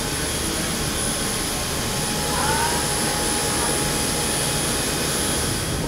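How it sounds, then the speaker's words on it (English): Two large landfill gas blowers drone inside a blower building, creating vacuum for gas collection: a loud, steady, jet-like roar with a high whine, unbroken throughout and with no talking. "Inside this blower building, we can find two large blowers. These two blowers create the vacuum that controls the landfill gas."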